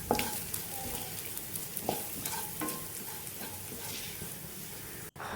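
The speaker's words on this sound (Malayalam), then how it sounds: "ഇനി ഇതിലേക്ക് നമ്മൾ പൊടിച്ച് വെച്ചിട്ടുള്ള ആ ഒരു പൗഡർ ചേർത്ത് കൊടുക്കുക എന്നിട്ട് നന്നായിട്ടൊന്ന് വഴറ്റി കൊടുക്കുക" Ground spice powder being sautéed in a pan for an Onam dish, with a steady sizzle and occasional scraping stirs throughout, fairly close and alone.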